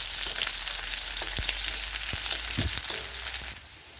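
Onions and bay leaves fry in a pan with a close, busy sizzle, and a few utensil clicks come through from stirring. Near the end the frying drops to a softer hiss.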